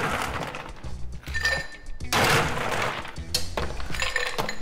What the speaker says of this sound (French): dans mon verre à mélange, je remplis de glaçons comme d'habitude